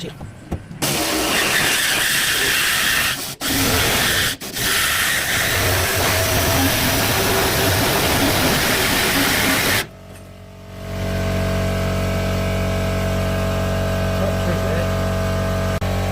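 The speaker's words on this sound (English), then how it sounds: "I'll just show you this little jigsaw working. Air pneumatic." Small air pneumatic reciprocating jigsaw cutting a car's under-rear-seat floor panel, a loud continuous buzzing rattle with brief pauses, then stopping and giving way to a steady compressor-like drone.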